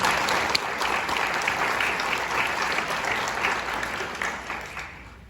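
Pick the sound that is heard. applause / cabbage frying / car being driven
applause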